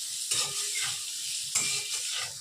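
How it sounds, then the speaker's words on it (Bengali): Soaked chickpeas and potatoes fry in a pan, giving a continuous sizzle broken by two sharp bursts of stirring and scraping, close by with no talking. "দুটোকে ভালোভাবে একটু ভেজে নিচ্ছি।"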